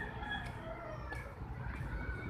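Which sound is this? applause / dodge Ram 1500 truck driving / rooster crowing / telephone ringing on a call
rooster crowing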